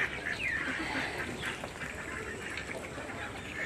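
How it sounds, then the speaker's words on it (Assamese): Ducks on a farm at an agricultural science centre in Nagaon quack and honk in a busy, overlapping chorus over a constant outdoor background. "হাঁহ আছে, হাঁহ দেখিছে কিমান হাঁহ আছে, বহুত হাঁহ আছে"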